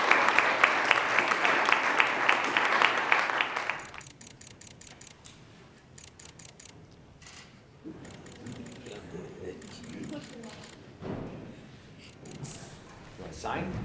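Audience applause at a high school athletes' college signing event, a full burst of clapping for about four seconds before it stops abruptly, followed by quieter room noise, clicks and speech.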